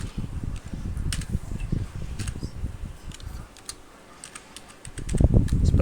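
Keys clack on a computer keyboard as a Linux package-upgrade command is entered on a Debian server, a quick run of soft taps close by with a low fan-like hum underneath and a brief lull before a denser burst.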